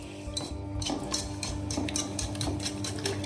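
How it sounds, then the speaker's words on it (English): Eggs being whisked for a chocolate sponge cake, a fast steady rhythm of light metallic beats against the bowl, close and continuous with no pauses or voices. "Then we'll start whisking"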